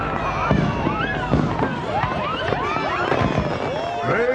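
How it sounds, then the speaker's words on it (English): Fireworks let off from a wild wood, a dense, continuous volley of whistling, rising shrieks and sharp crackling bangs, fairly loud and busy, with no break across the whole stretch. "Someone else has got fireworks."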